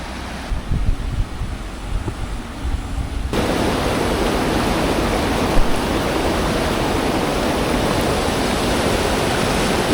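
Steady, broadband roar of a waterfall in Slovenia, quieter at first and then louder and constant after a few seconds, with no voices.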